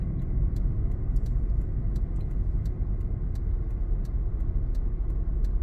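A car rolls past in front of a waiting vehicle at an intersection, a steady low engine rumble and tire noise close by throughout with no one talking.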